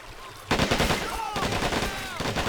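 Gunfire in the Men of War: Assault Squad 2 video game, with rapid bursts of automatic fire and dense crackling shots starting abruptly after a short lull and continuing loud to the end.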